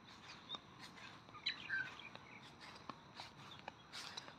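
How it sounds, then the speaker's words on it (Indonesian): Birds chirp and tweet in the trees around a hilltop resort, a quiet scatter of short, bright calls repeating from a moderate distance over soft ambient noise, with no talk. "Banyak burung di sini."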